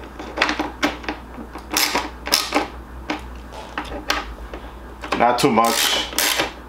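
Bolts on a Harley-Davidson Road Glide chin spoiler are tightened with a series of sharp, irregular metallic clicks and ratcheting taps up close, accompanied by a few brief spoken words.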